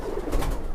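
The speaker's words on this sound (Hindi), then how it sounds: "तो भाइयों ये सारे के सारे कबूतर हैं।" Madrasi pigeons give a brief, low coo at close range.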